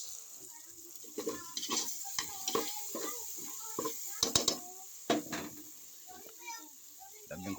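Vegetables sautéing in a pan for a home-cooked Filipino ulam, with steady sizzling and frequent stirring scrapes of a utensil against the pan, close up and fairly loud.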